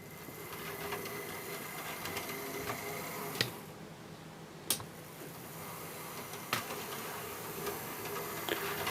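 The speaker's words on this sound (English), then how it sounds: "I can tell that the noise is coming out the centre. So that's where the motor is." A Bachmann Class 47 model locomotive chassis runs on track with its motor whirring in a steady, close buzz. A few faint clicks sound over the hum.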